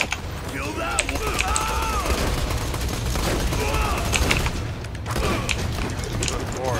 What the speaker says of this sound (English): This SMG is so good.